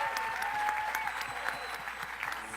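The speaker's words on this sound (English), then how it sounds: "let's give a round of applause for these amazing people" An audience at a summit breaks into a short, steady burst of applause, many hands clapping together at moderate loudness.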